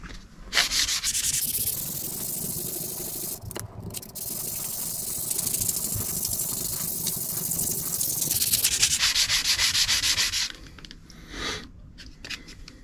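Hand sanding a Les Paul Custom guitar body with fine 400-grit sandpaper, a steady close scratchy rubbing that runs almost continuously with a few brief pauses and tails off near the end.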